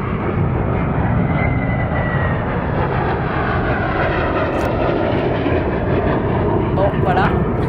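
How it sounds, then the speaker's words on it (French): An airplane passes overhead with a steady, broad roar that holds loud and even from start to finish, with no voices. "Alors je laisse passer l'avion."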